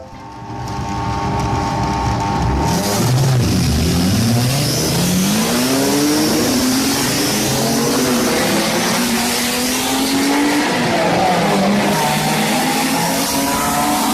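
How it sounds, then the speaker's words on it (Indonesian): A race car sound effect from a toy video gives a loud, continuous engine roar that revs and whines up and down in pitch with skidding tires over the top, close and alone with no talk. "Mobil balap."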